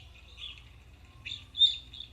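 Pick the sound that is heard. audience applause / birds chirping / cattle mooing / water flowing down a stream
birds chirping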